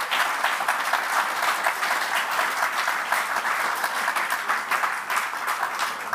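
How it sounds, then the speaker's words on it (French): An audience gives sustained, dense applause throughout, a steady wash of many hands clapping at an event about fraternity in action, with no pauses. "on peut encore les applaudir et leur dire un grand merci"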